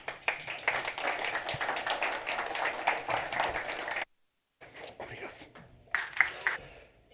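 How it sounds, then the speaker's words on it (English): A conference audience in Porto claps in dense, continuous applause, briefly cut off, then resuming more thinly with some voices mixed in. "A round of applause for him."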